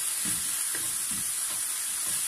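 Beef for briouates fries gently in a pan with a steady high sizzle, broken by soft, rhythmic stirring scrapes roughly every half second.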